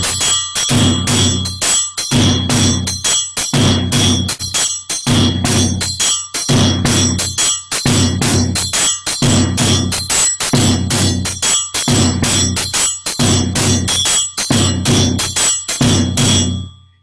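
Bright metallic bell strokes repeat a steady five-beat pattern at a djembe workshop, struck loud and close in evenly spaced groups over a dense ringing wash, with no voices.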